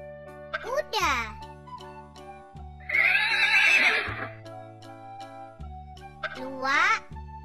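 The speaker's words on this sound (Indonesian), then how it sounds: "Kuda." A cartoon horse gives two loud, shaky whinnies, one near the start and one near the end, with a jingling, rustling sound between them, all over steady background music in a children's animal-sounds animation.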